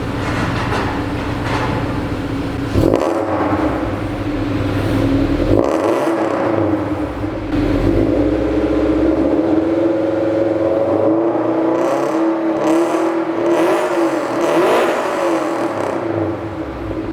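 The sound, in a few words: Toyota FRS with HKS exhaust revving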